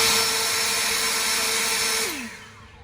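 Ego Power+ 650 CFM leaf blower running hard in turbo mode, a loud steady whining roar with a fixed tone that drops in pitch and fades as the motor winds down near the end.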